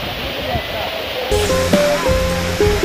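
A steady roar of falling water from the Chagolkandi waterfall on a jungle trail fills the scene, with a voice speaking over it partway through.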